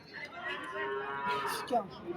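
A cow lets out a long, low moo close by at a cattle market, with faint murmuring voices of a crowd in the background.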